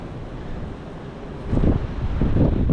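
Strong gusting wind in an Ohio Valley windstorm roars across the microphone, steady at first and then rising louder in surges toward the end, with no speech.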